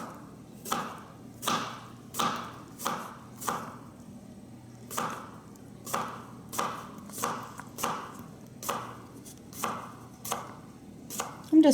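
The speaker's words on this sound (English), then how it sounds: "I'm just slicing it at an angle to make it look cute." A knife slices a vegetable at an angle on a cutting board for salad, giving a steady series of about sixteen crisp, evenly spaced cuts, close and clear, with no voices.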